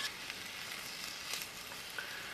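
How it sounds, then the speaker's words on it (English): Close, steady sizzling and crackling of green beans frying in bacon grease in a hot pan over a fire pit, with occasional small pops and no voices. "the green beans have been sizzling for about 10 minutes now"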